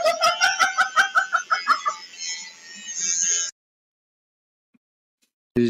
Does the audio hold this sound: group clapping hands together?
no